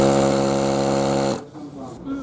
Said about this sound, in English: at least I know the compressor's fine